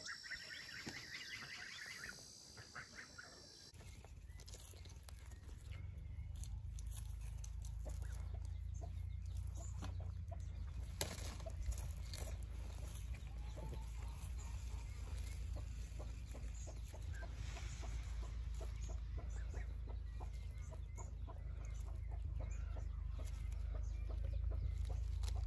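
Chickens cluck and call inside a backyard chicken coop, with a steady low rumble of background noise running under the scattered bird sounds throughout.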